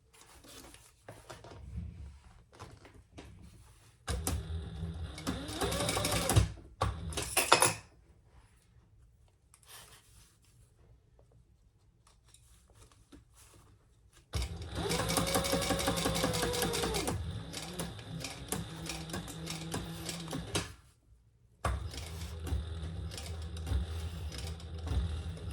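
A sewing machine stitches the bottom seam of a small sling bag in several close, steady runs of rapid whirring with pauses between them and no talk.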